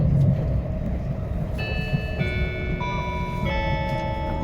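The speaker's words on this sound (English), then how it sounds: "Love the train noise." The steady low rumble of a Japanese train ride from Tokyo to Yamanashi, heard from inside the carriage, under a layered tonal chime or announcement melody that steps through several notes.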